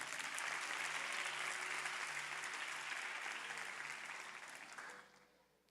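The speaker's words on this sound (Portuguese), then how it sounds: "Vamos aplaudir o Senhor por isso." A church youth service congregation applauds with steady, dense clapping that stays even for about four seconds and then fades out quickly, leaving a quiet room.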